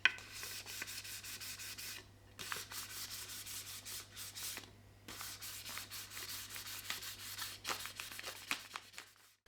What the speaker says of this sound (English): So I'm just going to lightly scuff this and then put the second coat on.